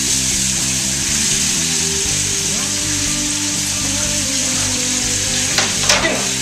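Onion sizzles loudly in a hot pan over a toasty base for a spaghetti and meatballs sauce, a steady dense hiss with a low hum running underneath and a couple of brief clatters near the end.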